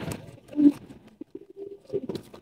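Male pigeon at a loft cooing in low, throaty bursts, close by, with soft rustling and patter around the calls.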